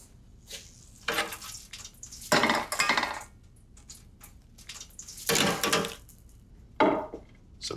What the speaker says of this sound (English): in with our courgettes. Again, we fry at 160.